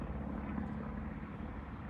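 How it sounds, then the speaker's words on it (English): A propeller airplane with a misfiring engine passes overhead, a steady low droning rumble that fills the whole clip at moderate loudness with no talking. "There's this airplane swinging by, and I don't know if you guys can hear that."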